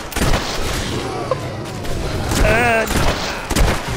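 Gunfire in Fable 3 rattles out in rapid bursts of sharp shots, with booming impacts and whistling effects, while someone shouts briefly over the shooting.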